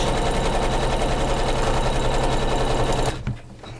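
A sewing machine quilts a fabric flange on a batting-backed Kimberbell pillow, running in a loud, steady, rapid hum close by for about three seconds, then stopping abruptly with a brief clunk, with no talking.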